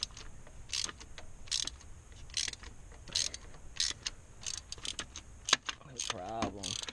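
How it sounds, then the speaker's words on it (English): A ratchet loosens spark plugs on a Subaru engine, giving repeated close clicking bursts in a regular rhythm, with a creaky mechanical squeal near the end. "Let's try to get the plugs out of this side now."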